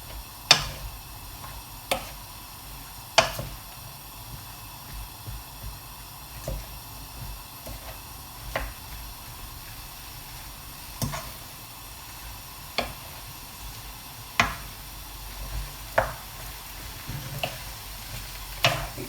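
Ratatouille vegetables frying in oil in a pan give a steady soft sizzle and hiss, broken every second or two by sharp clicks and taps of a utensil against the pan.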